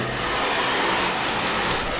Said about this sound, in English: It comes with a hairdryer.